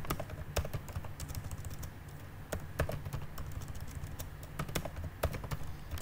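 Computer keyboard keys tapped while code is typed, irregular clicks in short bursts with brief pauses, close and moderately quiet, no speech.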